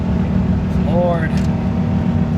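A 1993 Subaru Impreza GC climbs a mountain road in the Colorado Rockies in third gear, its engine droning steadily and loudly throughout while a person talks over it.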